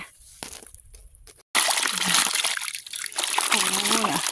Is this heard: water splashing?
yes